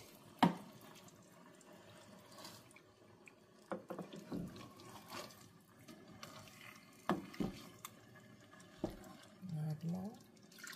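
Assorted meat broth is poured into a simmering ofada designer stew, a soft, faint liquid trickle with scattered clinks and knocks of kitchenware over a quiet room.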